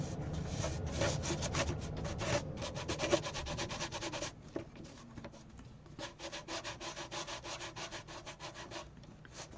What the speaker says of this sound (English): Sanding it smooth.